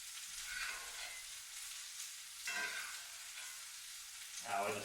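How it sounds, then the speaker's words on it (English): Butter fries in a hot cast iron skillet with a close, steady sizzle, swelling in three brief bursts as the pan contents are stirred; no talking. "got this butter cooking"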